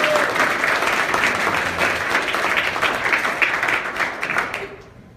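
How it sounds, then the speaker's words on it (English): An indoor audience at a young entrepreneur convention applauds steadily for several seconds, a dense crowd clapping that fades out at the end. "so I think that deserves a round of applause"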